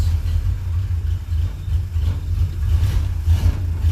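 A Jeep Willys engine runs steadily after being started with its foot starter, a close, low rumbling idle that throbs unevenly through the whole stretch with no voices.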